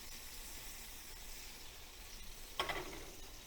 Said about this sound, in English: Now to do a fried egg, once you've got your pan and your butter melted